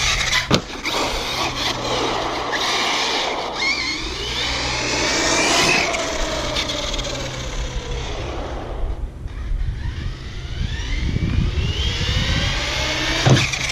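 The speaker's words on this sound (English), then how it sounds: "it is a heavy vehicle, so I don't know if it's bottoming out or that's just the sound of several pounds landing" An ARRMA Talion 6S 1/8-scale RC car from 2018 does speed runs and jumps on pavement: a steady electric whir rises and falls as it passes near and far, with thumps as the heavy car lands.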